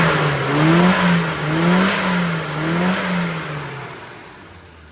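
A vermilion red Mini's engine, freshly tuned at the carburettor needle, revs in a smooth wavering drone that rises and falls a few times, loud and close, then fades slightly as it settles.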